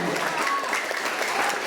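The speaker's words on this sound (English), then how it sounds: "Another round of applause." A short burst of dense applause from a school assembly audience, loud and continuous, with a voice faintly present beneath the clapping.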